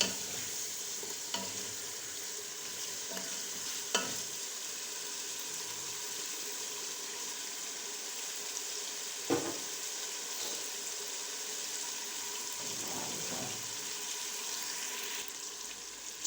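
Chicken frying in oil in a pan while cooking haleem, a steady close sizzle with occasional stirring scrapes and clinks, no talking.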